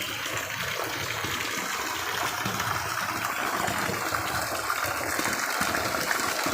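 Heavy rushing water pours steadily at a sacred spring pool (balong keramat), a continuous loud broadband gush filling the whole scene with no pauses.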